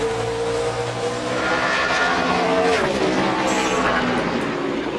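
A NASCAR Sprint Cup stock car laps Bristol in qualifying for the Sharpie 500, its engine droning steadily and rising in pitch as it passes, heard under faint crowd and track ambience.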